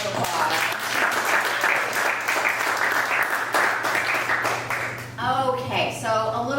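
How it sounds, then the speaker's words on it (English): A comedy club audience applauds in a dense, sustained wave of clapping, fading out as a voice begins speaking near the end. "Give yourselves a round of applause."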